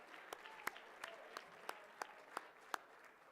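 A few scattered, widely spaced claps from a small number of people at an auction gala, sounding faint and distant as bidders are acknowledged.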